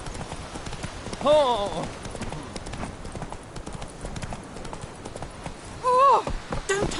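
Horse hooves gallop in The Witcher 3, a fast continuous clatter throughout, with vocal exclamations rising over it twice.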